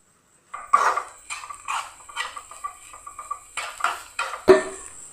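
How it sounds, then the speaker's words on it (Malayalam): A spatula scrapes and knocks around a pan while grated coconut is stirred into masala for a Malabar-style stuffed squid filling, producing a series of close, uneven metallic scrapes and taps with no talking. "നല്ല പോലെ ഒന്ന് മിക്സ് ചെയ്ത് എടുക്കാം"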